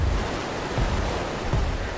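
Steady rushing roar of a waterfall in ARK: Survival Evolved on the Valguero map, a continuous broadband wash with low rumbling surges, heard alone without talk.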